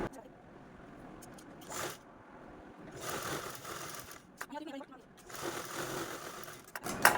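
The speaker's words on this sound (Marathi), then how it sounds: "आपण हे जे काय हँडल आहे ते स्टिच करून घेऊया" A sewing machine stitches a fabric handle for a scissors organiser, running in short bursts separated by pauses, with some handling noise and voices in between.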